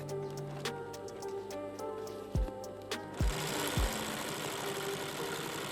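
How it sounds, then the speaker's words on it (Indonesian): Sewing machine stitching a hat, with a quiet mechanical whir and a few soft thumps, then a denser running buzz in the latter half. "kita lari lagi ke mesin setik untuk disetik."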